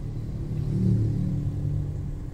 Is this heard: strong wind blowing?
no